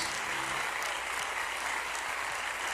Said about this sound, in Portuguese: E aplauda bem forte aos céus, o mais forte que você pode, ao Senhor Jesus.